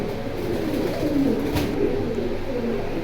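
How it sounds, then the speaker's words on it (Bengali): Low, soft cooing of a large male pigeon at a pigeon market in Keraniganj, Dhaka, rolls on steadily and close by, a continuous throaty murmur with no talking. "খুব সুন্দর কবুতরটা বিগ সাইজ নর কবুতর"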